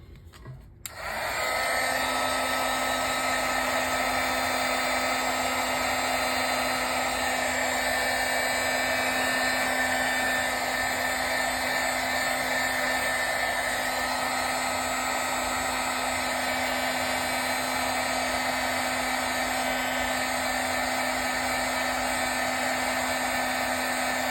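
Hot air blower heating adhesive, switching on after a brief moment and then holding a steady whirring, whining blast with a constant hum, close and continuous.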